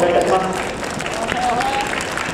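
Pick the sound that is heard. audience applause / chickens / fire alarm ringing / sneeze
audience applause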